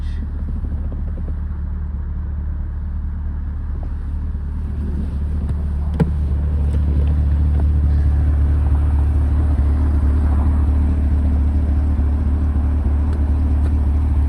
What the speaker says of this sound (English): This is my baby though, Z51 Corvette Stingray, Z51 package